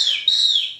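A single high, sustained chirp from an African grey parrot, bright and whistle-like, lasting under a second with a slight pitch dip midway, close and clear.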